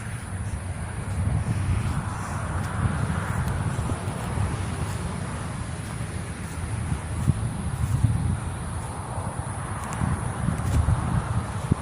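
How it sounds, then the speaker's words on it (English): Steady wind blows across the microphone outdoors, a low rumbling buffet that continues throughout with no pauses. "So windy here"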